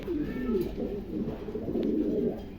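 Pigeons coo in a backyard loft, soft throaty calls overlapping in a continuous low murmur, fairly close.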